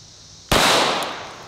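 A single sharp gunshot cracks loud and close after a brief quiet, its bullet ricocheting off steel into a small shaving cream can, followed by a fading outdoor echo.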